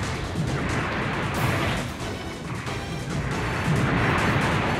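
Gun turrets fire in a Gundam video game, a dense barrage of loud blasts and crashing impacts that fills the whole stretch with little pause.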